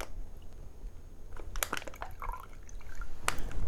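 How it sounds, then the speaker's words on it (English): Water being squeezed by hand out of an ingredient while making vegan lasagna, giving a few wet squishes and drips that are close and fairly faint over a steady background hiss. "Squeeze all the water out."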